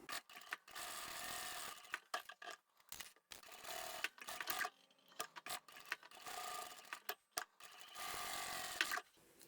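A sewing machine runs in short bursts while back stitching tote bag pockets, each stretch of rapid mechanical whirring broken by brief pauses; close and alone, no talk.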